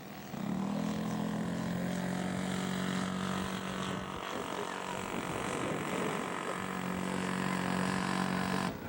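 A scale model aircraft powered by a Laser V300 engine makes a fly pass at an outdoor show, its steady loud buzzing drone holding for several seconds before fading slightly.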